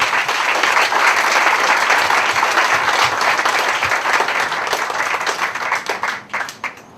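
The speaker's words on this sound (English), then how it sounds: "So please help me thank Joe again with a round of applause." A business event audience gives a round of applause, loud, dense clapping from many people that stays full for several seconds, then thins into scattered individual claps as it dies away.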